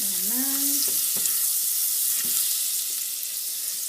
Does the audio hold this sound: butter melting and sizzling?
yes